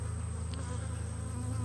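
Honeybees hum in a steady, close buzz around an apiary hive, a continuous low drone throughout.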